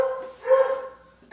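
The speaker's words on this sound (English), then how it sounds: "Dog problems." A dog gives a short bark or yelp indoors, one brief moderately loud burst over a quiet room, with no talking.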